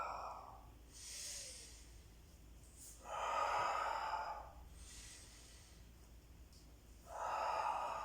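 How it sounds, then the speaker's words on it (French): Someone in a Pilates session breathes in and out audibly, alternating airy hissing inhales and exhales in a steady slow rhythm, close and fairly soft against a low room hum. "Et j'inspire, j'expire."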